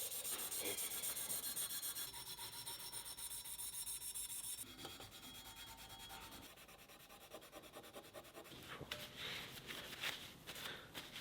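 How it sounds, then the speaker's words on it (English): A Scotch-Brite pad rubs and scrubs grime off a sling bow in quiet, continuous abrasive strokes that shift in intensity partway through. "I scrubbed all the crap off it with the Scotch-Brite"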